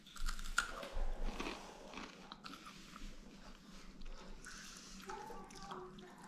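A freeze-dried gummy ring candy is bitten and chewed close up, with a few crisp crunches early and softer chewing after, quiet and without talk.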